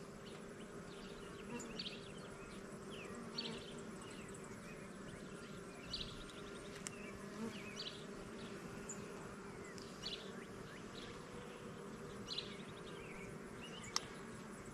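Honey bees buzz steadily around an opened hive, a dense droning swarm with individual bees flying close past in brief louder whines, continuous throughout without talk.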